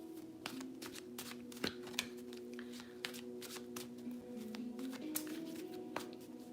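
A deck of playing cards being shuffled close by, with repeated papery riffles and snaps in quick irregular bursts over a steady low hum, no talking.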